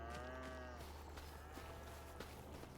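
A cow moos in the Farming Simulator 25 video game, a couple of drawn-out lowing calls over a steady low background hum, fairly faint and with no talk.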